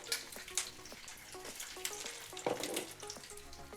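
Hot fat crackles and sizzles in a pan for Bulgarian kapama, with a steady busy hiss and clear clinks of the pan being shaken around, close and fairly loud with no one talking.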